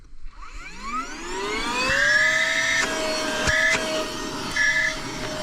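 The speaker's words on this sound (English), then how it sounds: "Yeah, a vacuum cleaner is very weak. Where's the power?" An Amazon LT-114 handheld car vacuum cleaner spins up from silence with a rising whine, then runs at a steady high-pitched drone with brief knocks and rattles, close and alone.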